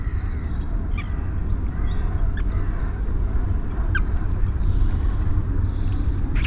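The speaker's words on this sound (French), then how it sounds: "À marée basse, les oiseaux quittent leur reposoir de marée haute et partent se nourrir sur les vasières." Shorebirds at low tide leave their high-tide roost to feed on mudflats in winter, with a few sparse, distant calls over a steady low rumble of wind or surf.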